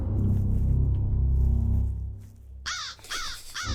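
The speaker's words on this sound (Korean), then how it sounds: "까마귀 나옴" Crows caw loudly in a video game, a few harsh close calls arriving in quick succession after a low rumbling background fades out.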